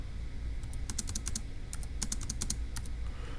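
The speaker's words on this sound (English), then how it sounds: "let me go ahead and just type it up" Fast bursts of typing on a computer keyboard, clustered keystrokes in irregular runs with short pauses, close and moderately loud over a low steady room hum.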